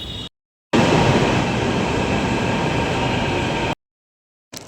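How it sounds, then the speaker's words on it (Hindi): A metro train pulls into a station on the way toward Chandni Chowk, its steady loud rumble and rolling wheel noise filling the platform, framed by brief silent gaps before and after. "अब देखो ये मेट्रो आ गई,"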